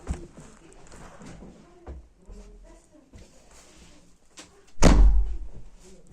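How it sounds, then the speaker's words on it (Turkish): A door is shut hard with one loud, close slam near the end, following quieter shuffling and handling noises. "Benim kapı kapatışım öyledir."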